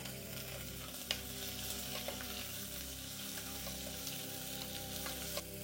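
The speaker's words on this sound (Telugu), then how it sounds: "ఇందులోనే ఆనియన్స్ అలానే చిల్లీస్ వేసేస్తున్నాను." Onions and chillies frying in hot oil with whole biryani spices for a chicken fry piece biryani, giving a continuous close crackling sizzle with a few sharp ticks and a low steady hum beneath.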